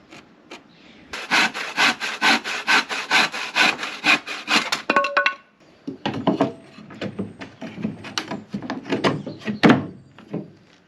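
Wooden frame pieces for a Vauxhall Movano camper van floor are sawn by hand, with a steady run of rhythmic back-and-forth strokes, a short pause, then a second, more uneven burst of cutting close by.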